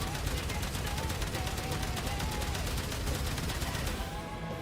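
Rapid gunfire in the video game Warframe, a dense continuous stream of shots under loud game effects that fades slightly at the end.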